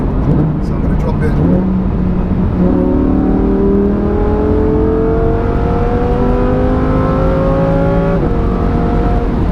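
A 640 bhp Lamborghini Huracan Performante accelerates hard in manual Corsa mode, its engine note climbing steadily in pitch with a brief dip at a gear change, loud and continuous under the cabin noise while someone talks.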